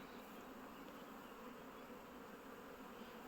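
Buckfast honey bees hum at the hive, a steady, dense, faint drone with no breaks and no voices.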